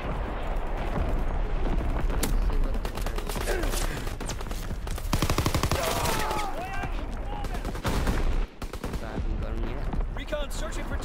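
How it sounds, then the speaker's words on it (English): Artillery strike in Call of Duty WW2: a dense, continuous barrage of gunfire and heavy blasts filling the whole stretch, with battlefield voices mixed in and a brief dip near the end. "Firing on target."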